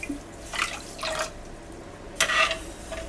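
Water poured from a cup onto sugar in a pan for sugar syrup, a few short splashing bursts separated by quiet gaps, close and clear.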